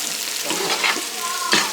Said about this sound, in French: je couvre la marmite, je laisse les tomates et les épices bien cuire et je baisse le feu à petit feu